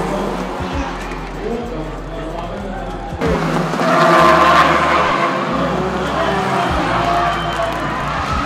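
Race cars driving on a track during a racing weekend, engines droning and passing loudly nearby with tire noise, under a continuous background of crowd and talk.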